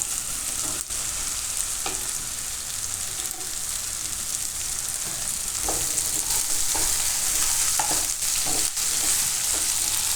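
Okra tossed into a hot pan with garlic sizzles in a continuous hiss, broken by occasional scraping stirs of a spatula, loud and close for about ten seconds with no talking.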